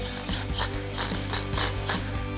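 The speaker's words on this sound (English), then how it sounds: "grab your impact and 13mm socket and tighten this axle nut down" Rapid mechanical clicking and rattling in quick bursts as an impact wrench with a 13mm socket tightens an axle nut on a Ford F-150, close up with no voices.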